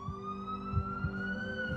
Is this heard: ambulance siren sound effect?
yes